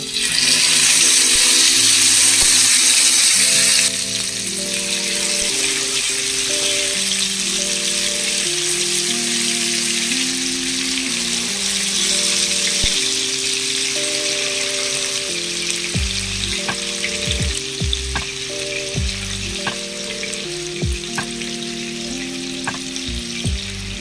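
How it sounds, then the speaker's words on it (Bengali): Chicken pieces shallow fry in hot ghee and oil. A loud hissing burst at the start settles into a steady sizzle, with occasional clicks of utensils against the pan and no speech. "এবারে আমি চিকেনগুলোকে এর মধ্যে দিয়ে দেব।"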